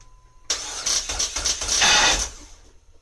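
Dodge SRT-4 engine with a 3-inch side-exit exhaust cranking and catching, a loud burst of cranking and roaring exhaust that rises and swells before dropping back, recorded close by in a very cold garage.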